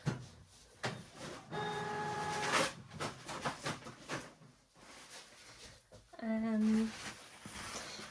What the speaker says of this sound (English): Oh, the printer decided to go.